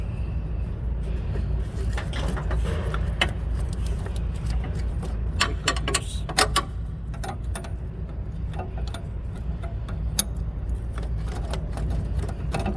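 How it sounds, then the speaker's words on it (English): A line wrench cracks loose the brake line fittings on the electronic brake control module of a 2014 Chevrolet Equinox, giving sparse, sharp metallic clicks and ticks over a steady low hum. "Line wrench kind of make it easier to crack these."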